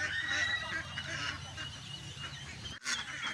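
Ducks on a duck farm honk and quack in a continuous, moderately distant chorus, with bursts of nasal calls over low background noise.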